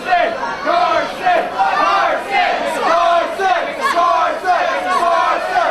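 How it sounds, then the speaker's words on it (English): Hometown crowd at an NWA wrestling championship match, chanting in loud rhythmic waves with rising and falling shouts, while a commentator speaks. "this hometown crowd getting behind Carson"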